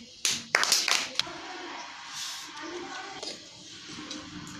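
Children clapping hands in a classroom, a quick cluster of sharp claps near the start followed by a few scattered softer claps and low room noise.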